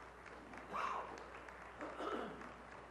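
Faint, distant audience applause fills a conference session hall with a soft, even patter of clapping that rises twice briefly before settling, with no one speaking over it.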